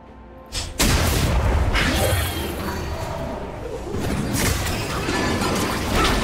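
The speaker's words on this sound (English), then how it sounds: "Blue team's turret has been destroyed." A turret crumbling in League of Legends: a loud boom and crash bursts in after a brief quiet start, then a dense roar of rubble and battle noise holds steady to the end.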